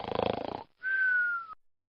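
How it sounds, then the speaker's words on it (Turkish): A cartoonish snore: a rattling, pulsing inhale followed by a short pause and a long, thin whistling exhale. "Horultu efekti."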